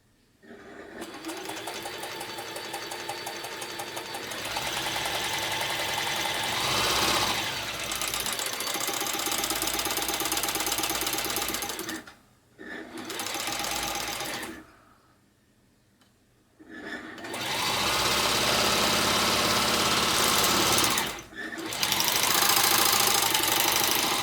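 Janome Combi serger running with its needle catching the looper thread, a loud rapid mechanical chatter in long bursts broken by short stops and one longer pause before it resumes, no talk.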